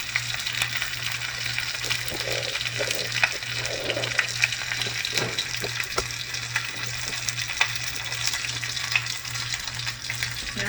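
Fish pan-frying in hot oil, a steady crackling sizzle with scattered pops continuing evenly throughout, close and clear with no talking.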